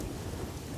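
Steady rain with low thunder rumbling throughout, a continuous broadband wash of falling water from a monsoon downpour, fairly loud and close with no voices.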